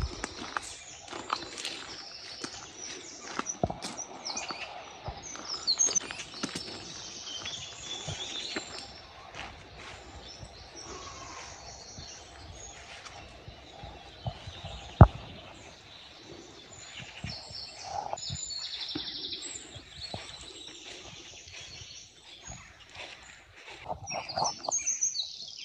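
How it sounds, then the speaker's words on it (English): Swallows nesting in a stone archway give faint, scattered chirps and tweets over quiet surroundings, with occasional soft footsteps and one sharp knock midway. "We're very, very lucky to have wonderful swallows nesting in through this archway, and just wonderful bird life altogether."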